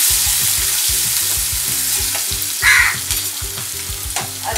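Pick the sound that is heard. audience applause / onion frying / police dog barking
onion frying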